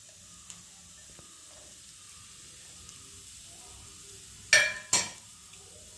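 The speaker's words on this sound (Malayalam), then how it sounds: "ഇത്രയും നല്ലെണ്ണ ഒഴിച്ചു കൊടുത്തിട്ടുണ്ട് ഇതിലേക്ക് ഞാൻ ഇട്ട് കൊടുക്കാൻ പോകുന്നത് ഇഞ്ചിയാണ് ചെറുതായിട്ട് അരിഞ്ഞ ഇഞ്ചി ഇട്ട് കൊടുക്കുന്നത്" Chopped ginger dropped into sesame oil for a mango pickle makes a faint low simmer, then two sharp bursts of hissing sizzle near the end, close up with no voices.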